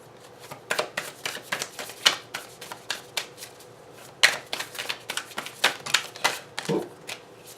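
Tarot cards shuffled by hand in a steady run of quick riffling bursts, close and fairly loud, with no talking.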